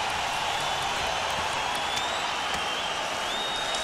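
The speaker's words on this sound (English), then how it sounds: "And the fans applaud." Hockey arena fans applauding after a fight breaks up, a steady wash of clapping and crowd noise that holds evenly at moderate loudness throughout.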